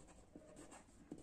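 Handwriting during a class 7 maths lesson on speed and time problems: a few faint, brief pen strokes on a writing surface, close and quiet, with no talking.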